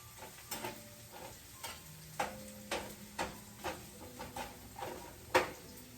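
Onions frying in a pan, a faint low sizzle broken by a series of light ticks and taps from a utensil against the pan, quiet and close with no talking.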